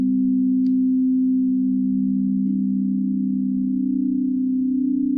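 A singing bowl's healing tone hums as one steady, loud, pure sustained drone played back through a screen share, unbroken throughout with no voices.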